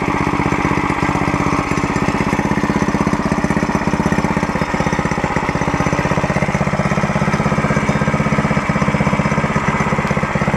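A homemade dirt bike, a small mini-bike engine, idles nearby with a loud, steady, rapid putter and a slight mechanical knock, holding an even rhythm throughout without any voices.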